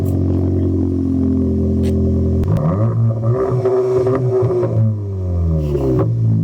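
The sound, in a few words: Cupra Ateca engine starting and revving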